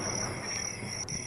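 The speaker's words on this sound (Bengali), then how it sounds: "দোকানের পিছনে ঝিঝি পোকা ডাকছে" Crickets chirp at night behind a village tea stall, a steady high shrill trill holding without pause over faint background noise.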